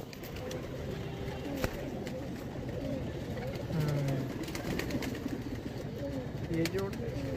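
Madrasi pigeons coo in low, soft murmurs amid a busy, constant background of other birds, steady and fairly close.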